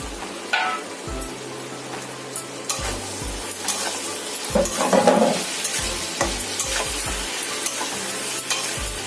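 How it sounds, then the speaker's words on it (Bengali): Potatoes and fried spine gourd stirred in a spiced mixture, with a steady sizzle and repeated scraping stirs of a spoon throughout, close and moderately loud, no talking. "সমস্ত মশলার মধ্যে আলু আর কাঁকরোলগুলো ভালোভাবে কষে যাবে। অনবরত নাড়তে হবে।"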